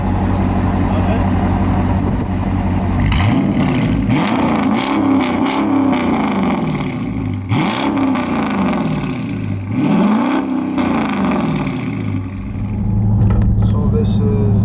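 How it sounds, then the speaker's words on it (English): A 2018 Dodge Charger R/T Daytona with a 5.7 V8 and mid muffler delete rumbles loudly from inside the cabin while driving, its deep exhaust drone swelling in three or four rising revs as it accelerates and shifts. "So this is the first ride I'm taking with the mid muffler delete."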